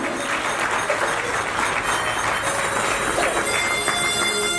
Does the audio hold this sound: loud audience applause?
yes